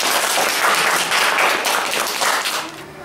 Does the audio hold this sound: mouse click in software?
no